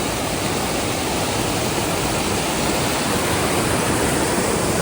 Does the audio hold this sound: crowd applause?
no